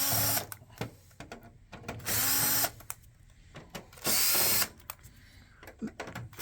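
Power screwdriver backing plastic cover screws out of a Toshiba e-Studio copier, with repeated short whirring bursts interrupted by clicks and handling noise in a quiet room.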